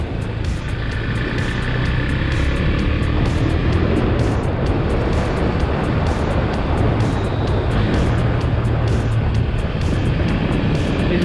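Husqvarna Svartpilen 401 motorcycle on the move, its engine a steady, loud, close drone with broad road and wind roar running throughout and no talk.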